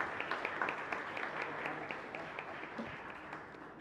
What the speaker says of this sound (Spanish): son merecedores de un agradecimiento con este fuerte aplauso que le brindamos a esos